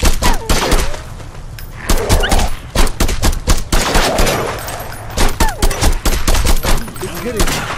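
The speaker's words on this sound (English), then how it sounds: "Shoot him in the head." Rapid gunfire bursts and single shots from the VR zombie shooter Lop Nor Zombie, played on an HTC Vive Pro, crack loudly and repeatedly throughout with brief gaps and some thudding impacts.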